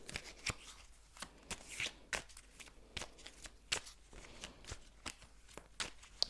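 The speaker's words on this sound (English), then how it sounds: "I'm going to shuffle a little bit more" Tarot cards shuffled by hand in quick, crisp riffling bursts with sharp flicks and short pauses, close and fairly quiet, with no talking.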